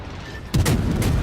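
Naval guns fire in the World of Warships video game: a quiet hum breaks into a sudden loud boom at about half a second, followed by a rumbling blast tail with a second burst, no talk.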